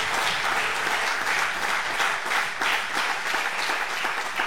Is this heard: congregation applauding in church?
yes